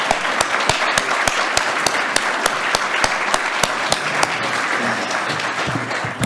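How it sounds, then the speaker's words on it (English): An audience at a national conference applauds a panel of speakers, steady dense clapping with a few sharp individual claps standing out, sustained evenly from start to finish. "could I get a round of applause for our distinguished panellists?"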